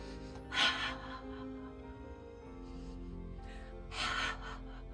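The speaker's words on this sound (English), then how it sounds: "Nice deep breath, big release." A deep breath is released during a qi gong session, two soft breathy exhalations about three seconds apart over a quiet, steady background.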